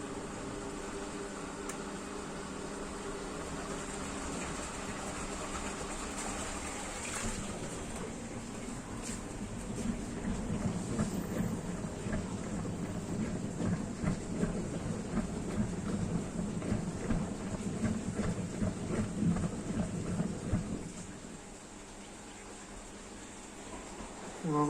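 Washing machine spinning at 1600 rpm, a steady mechanical whir that builds and rises in pitch, holds with a rattling drone, then drops away near the end.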